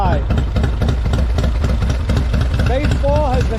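A Harley-Davidson Softail fitted with Love Jugs idles up close and loud, its low, lumpy rhythmic pulse steady throughout, while someone speaks briefly over it near the end.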